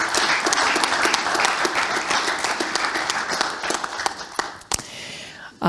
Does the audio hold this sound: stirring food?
no